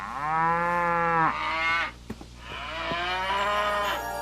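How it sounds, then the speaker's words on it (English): Cows moo in drawn-out, tonal lows, one long call followed by a second wavering moo, with a soft background hum and a brief knock between. "You can look after my cows."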